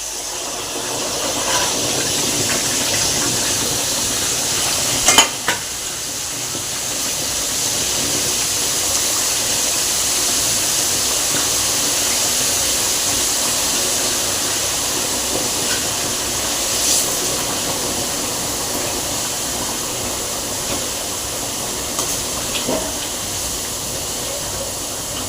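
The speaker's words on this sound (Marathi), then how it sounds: "डाळ चांगली भाजल्यानंतर याच्यामध्ये आलं लसूण पेस्ट घालूया।" Dal and ginger-garlic paste roast in a pan for vada pav masala, giving a continuous steady hiss and sizzle held at an even level throughout, with a few faint clinks and one brief knock.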